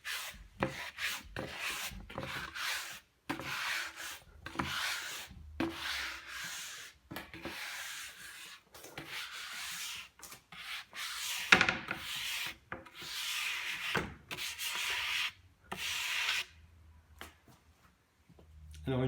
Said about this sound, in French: on va repasser en fait un petit coup de brosse fine pour enlever le surplus